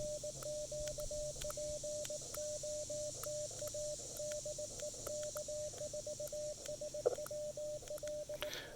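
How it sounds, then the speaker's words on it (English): A steady electronic sidetone from a radio transceiver beeps in rapid on-off pulses, like keyed morse, over a faint hiss, continuing evenly throughout. "I hope the side tone's loud enough that you can hear it."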